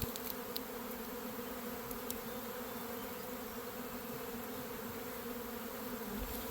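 A honeybee swarm hums in a dense, steady drone outdoors, the buzzing continuous and close with no pauses or voices over it.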